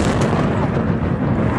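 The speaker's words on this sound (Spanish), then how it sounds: "Una enorme explosión destruye un buque de desembarco naval ruso" A huge explosion destroys a Russian naval landing ship off the Crimean peninsula, heard as a loud, dense, continuous roar and rumble that fills the whole stretch without a break.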